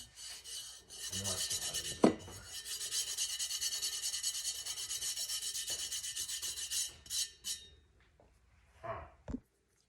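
Glitter is rubbed by hand into a tumbler coating, a close scratchy rasp in steady strokes for several seconds, then a couple of short rubs after a pause, with a sharp knock early on.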